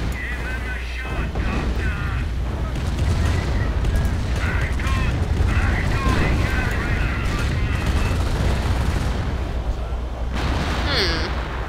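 Anti-tank guns in a multiplayer war video game fire amid constant battle noise, heavy booms and scattered shots rolling on for several seconds while players talk over the din.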